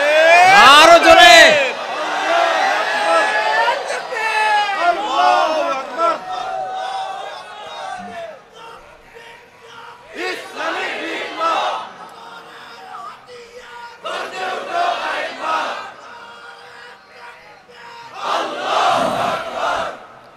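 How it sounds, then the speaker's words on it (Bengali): A crowd at a religious gathering in Bangladesh shouts the slogan Naraye Takbir, answering a lead voice in several loud, massed bursts separated by short pauses. "আমাদের স্লোগান হলো নারায়ে তাকবীর"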